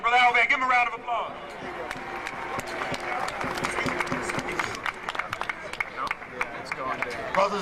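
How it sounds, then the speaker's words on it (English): An audience at a political gathering applauds a speaker with sustained clapping, steady and fairly close, mixed with crowd murmur and a voice speaking over it at the start and end. "Brother Al Van, give him a round of applause"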